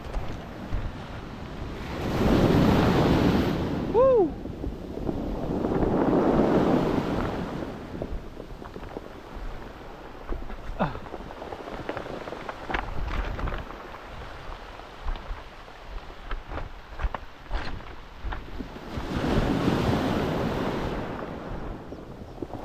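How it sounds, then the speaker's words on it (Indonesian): Ocean waves roll in and break along the shore of Nusakambangan Island, several loud washing surges rising and fading in turn, with wind buffeting the microphone in between. "Ombaknya."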